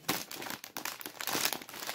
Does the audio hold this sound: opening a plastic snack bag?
yes